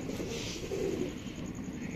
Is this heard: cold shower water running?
no